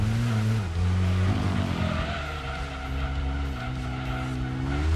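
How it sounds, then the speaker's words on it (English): A race car engine in the PlayStation game Gran Turismo 2, a 551 bhp V8 during the Seattle City endurance race, drones loudly and steadily. Its pitch dips and climbs through gear changes, and tire squeal sounds throughout. "I'm pretty sure that this car right now sounds like Peugeot 406, the touring car."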